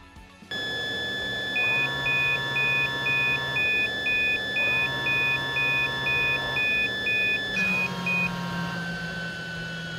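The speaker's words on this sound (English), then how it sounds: "Block the airflow by placing your hand over the breathing tube until the alarm sounds and the blower vibrates for about 15 to 20 seconds." A PAPR blower unit with its breathing tube blocked by hand sounds a repeating electronic alarm: bursts of steady high beeps in regular pulses over a continuous blower hum, with a shift in tone near the end.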